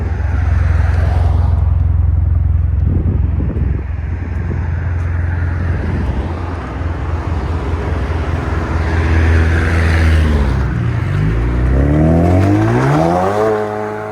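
A 2016 Chevy Camaro Turbo with a Dynomax exhaust rumbles loudly and deeply at idle, then revs up sharply near the end as its pitch climbs.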